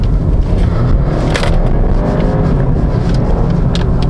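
A 2018 BMW 320i accelerates hard with a loud, rising engine roar that builds steadily, close and dominant, with brief crackles along the way.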